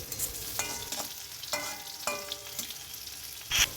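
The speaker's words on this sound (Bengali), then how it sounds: "এখানে আমি উচ্ছেগুলো চাক চাক করে কেটে নিয়ে ভেজে নিচ্ছি" Sliced bitter gourd pieces frying in a pan, a quiet sizzle broken by several ringing scrapes and clinks of a spatula against the metal.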